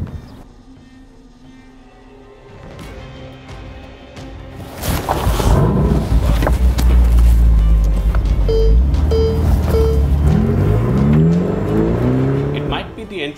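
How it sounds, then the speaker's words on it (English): Ferrari Portofino V8 driven on the road in Dubai, quiet at first, then a loud engine rise as it accelerates hard, with gear-shift dips and a revving tone climbing to the end. "get into the Portofino, drive it around and get a feel of what an entry-level Ferrari feels like"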